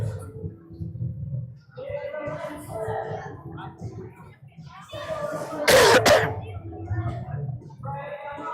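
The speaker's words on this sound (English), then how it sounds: "So if I cough a little bit, I apologize for you folks at home." A single loud cough from a sports broadcaster with a cold, sharp and close to the microphone partway through, surrounded by talk and the murmur of a crowd at a D6 game, PWC against New Prague.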